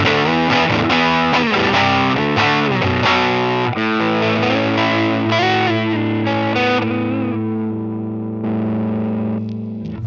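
Electric guitar played through a modelled Minotaur overdrive pedal on a Line 6 Helix, with chords and single notes ringing out as dense, sustained overdriven tones, loud and steady throughout with no talking.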